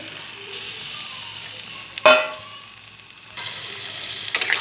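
Chicken meat goes into hot spice paste with tomato for a chicken curry: a sharp burst of sizzle, then a quieter hiss, and then a louder, steady frying crackle close by.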